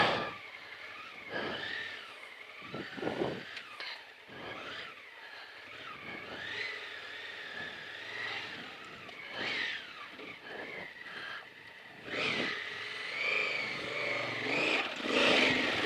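A motorcycle engine revs in uneven bursts as the rider climbs a rutted track, throttle rising and dropping repeatedly at close range, with no talking.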